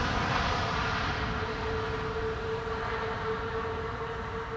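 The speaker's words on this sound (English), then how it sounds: "That's reversers." Airliner thrust reversers roar during a windy landing on Amsterdam's Polderbaan runway 18R: a loud, steady, broadband rush with a faint tonal whine running underneath, holding for several seconds.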